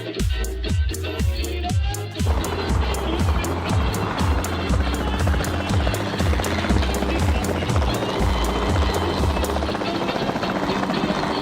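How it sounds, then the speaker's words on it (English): A capture team helicopter flies in the video game Jurassic World Evolution 2, its rotor thumping in a fast, steady beat, loud and close, with a whining engine tone underneath. "Then the sensible thing is to take a capture team helicopter."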